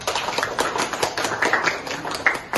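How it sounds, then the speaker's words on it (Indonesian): A classroom of students claps for a classmate's correct answer about ethical politics, with a dense, steady patter of many hands close by that swells and eases over a couple of seconds. "kasih aplaus dulu buat"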